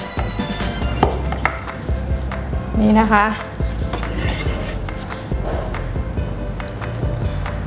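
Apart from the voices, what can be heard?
cutting lime with knife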